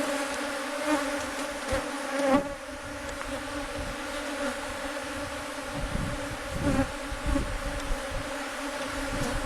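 Honeybees swarm around an opened beehive during an inspection of a stacked box, making a dense, continuous buzzing drone, close and loud, that rises and falls slightly without any voices.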